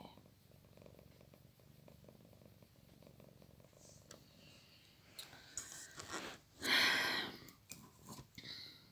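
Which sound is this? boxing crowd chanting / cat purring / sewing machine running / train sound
cat purring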